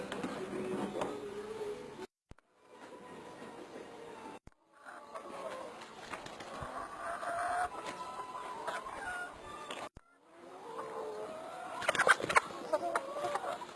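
Many chickens cluck and murmur together in a busy coop, with a few louder squawks rising above the flock, broken by short abrupt cuts.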